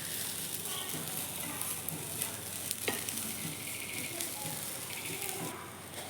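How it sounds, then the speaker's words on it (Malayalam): Grated coconut with crushed cardamom sautéing in coconut oil, a steady close sizzle with scraping stirring strokes throughout, and faint talk underneath. "നന്നായി വഴറ്റി കൊടുക്കുക കേട്ടോ"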